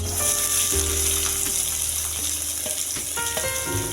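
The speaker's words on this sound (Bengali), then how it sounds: "পেঁয়াজ রসুনটা ভালো করে ভেজে নেব" Chopped onion and garlic frying in a pan, a steady close hiss and sizzle with faint clinks as the food is moved about.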